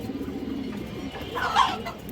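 Pigeons, including a white pair of Chuina birds, give soft low cooing, faint and close, with a brighter chirp-like call rising briefly near the end.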